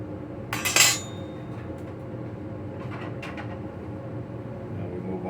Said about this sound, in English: you always clean your spatula and your fork